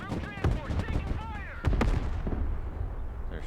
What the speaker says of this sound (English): Firing artillery at our assumed locations.